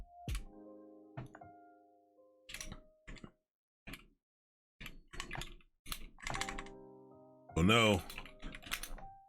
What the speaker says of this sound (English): my typing is not amazing today.